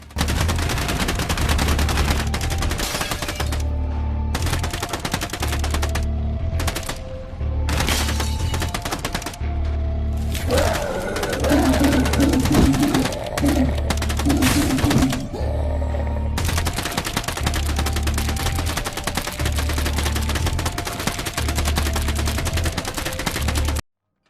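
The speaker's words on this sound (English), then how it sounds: "adding randomized sounds for different object hits and destroy effects by Eric Freeman." Randomized hit and destroy effects in a Unity video game: rapid gunfire-like cracks and bursts repeat loudly over a low music bed, with short gaps between volleys.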